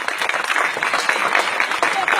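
A live audience at a speech event bursts into dense, continuous applause, loud and close, with voices mixed in under the clapping.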